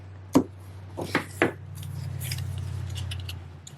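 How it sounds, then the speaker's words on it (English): Scissors snip paper ends while trimming a handmade card, three sharp close cuts in quick succession followed by a quiet rustle of paper. "Then I'm just going to cut my little ends here."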